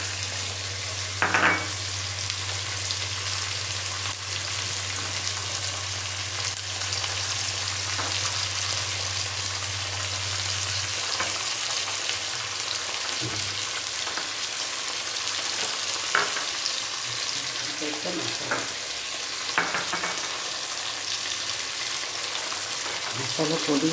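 Fish frying in a pan with turmeric, a steady close hiss of sizzling oil running throughout with occasional stirring clatter and pops; a voice speaks briefly.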